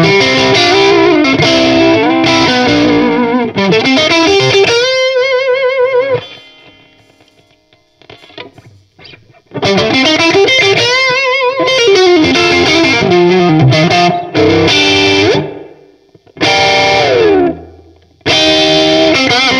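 Crunchy, distorted electric guitar through a Vox MV50 AC micro tube amp, played loud in riffs and bends with short gaps of near silence between phrases and no talking.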